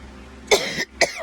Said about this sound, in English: this cough getting on my nerves